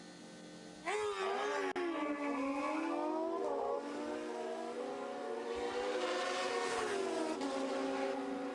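Kawasaki DX14 drag racing motorcycle launching down the strip at a national event, a loud engine roar that rises and sweeps in pitch for several seconds after an abrupt start, continuing steadily to the end.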